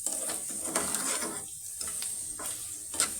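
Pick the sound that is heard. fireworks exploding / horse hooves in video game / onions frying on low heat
onions frying on low heat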